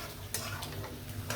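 Shing fish sautéing in a pan with karela, a steady close sizzle with a few sharp scraping strokes of a spatula spaced through it.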